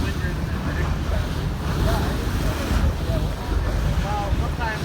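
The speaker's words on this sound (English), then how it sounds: "Already feeling a little windier than the prediction said." Steady wind buffets a fishing boat out at sea, with waves sloshing and rushing against the hull throughout, loud and close, with gusts rumbling over the microphone.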